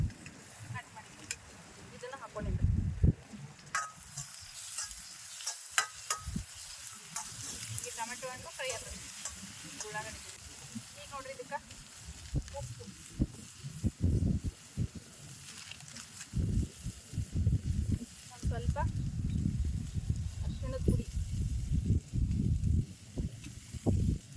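Onions sizzle and fry in a pan for a handi chicken curry, with crackling hiss throughout and repeated scraping stirs close by. A person talks over the cooking at times.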